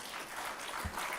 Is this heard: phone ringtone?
no